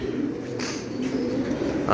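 A domestic pigeon on a small farm coos in low, soft, rolling notes, heard close and continuous over a quiet background of faint room noise, with no talking.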